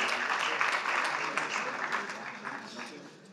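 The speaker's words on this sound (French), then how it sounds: "On peut les applaudir" A room full of people at a city council meeting claps steadily, a dense patter of hands that holds level and then begins to taper off toward the end.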